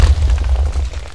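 A cannon shot in a pirate battle video game booms out as a loud, heavy explosion, its deep rumble sustained and rolling for the full moment with no talk over it.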